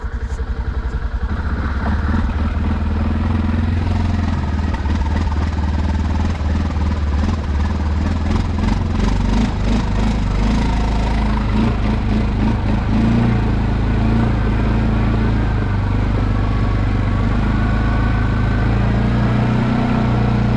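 Linhai 550/565 ATV engine straining in high gear while pulling a Jeep Cherokee, a loud, steady close rumble with clattering throughout, no talking.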